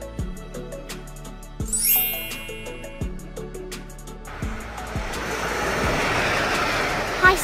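A diesel train rolling along rail track, with low rumbling engine tones and periodic thumps of wheels over rail joints, a brief high squeal, then a steadier broadband roar of passing cars building toward the end.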